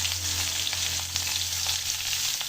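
Onion fries in oil in a pan for a black chickpea curry, a steady, dense sizzle close by with a few soft clicks, no voices.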